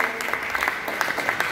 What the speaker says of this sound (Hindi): कितने लोग लीडर खुद तालियां बजा के दिखा देंगे